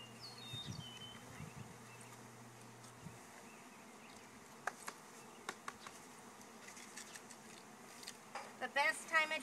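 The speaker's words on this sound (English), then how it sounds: "you can see we've got a few bees in the air" Honey bees hum softly around an open hive while a package of bees is installed outdoors, with scattered light taps and knocks rising toward the end.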